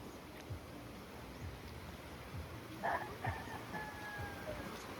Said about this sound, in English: We've got roosters too.